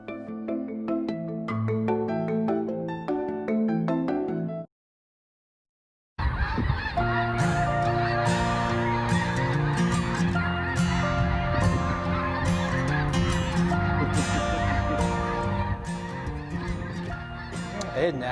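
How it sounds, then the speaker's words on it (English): Flock of geese honking in Colorado, a dense chorus of overlapping calls, loud and continuous, with a short gap of silence before the clamor resumes even fuller. "The geese put on quite a show there for our viewer Tina and her family out in Marino."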